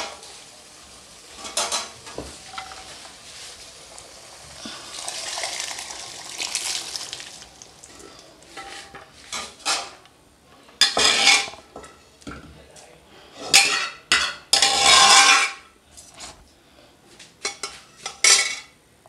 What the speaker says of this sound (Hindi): अब इसमें हम अपना राजमा ऐड कर देंगे।